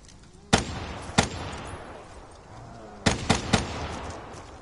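Gunfire in Call of Duty Black Ops 3 while playing as Nikolai on The Giant map: two separate sharp shots, then after a pause a quick burst of three, loud and close over a faint game ambience.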